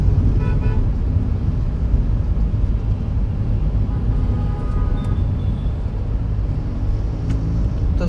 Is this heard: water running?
no